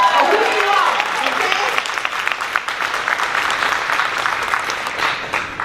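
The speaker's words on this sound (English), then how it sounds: "A round of applause for each and every one of you." A crowd applauds loudly, with cheers rising at first and then a sustained round of clapping from many hands.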